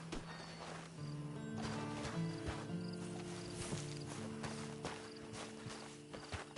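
Horse hooves clip-clop at a walking pace in a PS4 video game, a steady rhythmic patter set against sustained in-game music tones and a faint ambient bed.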